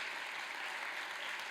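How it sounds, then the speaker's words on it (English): Audience at a TEDx talk on improvisation claps steadily in a dense, even burst of applause lasting under two seconds, with no speech over it. "A round of applause for John in his first round of applause."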